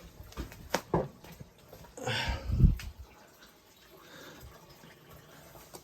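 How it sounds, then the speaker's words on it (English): Water rushes and gurgles through a clogged kitchen sink drain pipe in short surges, close and moderately loud, with scattered knocks and drips and no voices. "You can hear the water flowing."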